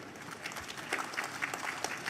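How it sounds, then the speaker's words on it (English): An auditorium audience at a National Handloom Day award ceremony in Shillong applauds a recipient, a moderately distant, fairly quiet patter of clapping with a few sharper individual claps standing out. "Can you give him a big round of applause,"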